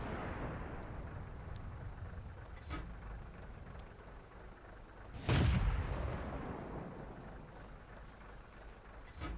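An L70 tank gun fires in a video game: a faint low rumble sits in the background, broken by one sharp, booming report near the middle that decays slowly, with a few lighter distant thuds around it.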